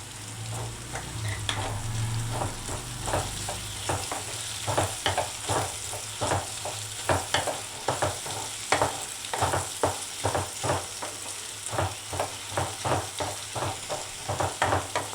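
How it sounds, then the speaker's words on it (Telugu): Sesame seeds and garlic frying with tomatoes for a spicy chutney: continuous hot-oil sizzle under a regular rhythm of spatula strokes scraping and tapping the pan, close and fairly loud throughout. "ఇప్పుడు దీంట్లో మనం ఈ నువ్వులను వేసుకుంటున్నాం. ఈ వెంటనే ఎగుతాయి దీంట్లో."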